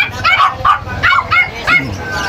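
Small Pomeranian dogs yapping in short high-pitched barks at a busy pet market in Bocaue, with people talking over them nearby.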